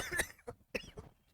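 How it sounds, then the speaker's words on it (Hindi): A teacher coughs mid-lesson in a math class: three or four short, harsh bursts in quick succession at close range, with no talking, followed by a trailing throat-clearing rasp. "खांसी शुरू हो गया।"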